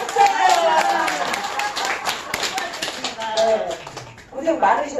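A group at a laughter-exercise health class claps in a quick scattered burst, many sharp hand claps close by, mixed with voices and chatter throughout.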